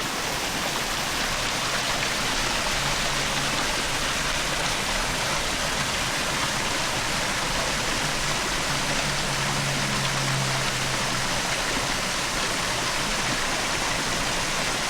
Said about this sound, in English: Beautiful cascade.